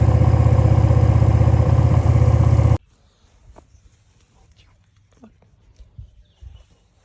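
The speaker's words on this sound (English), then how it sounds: "This is just the sound of the engine." A 250cc motorcycle engine idles with a steady, throbbing rumble for a few seconds, then cuts out abruptly, leaving faint clicks and quiet room noise.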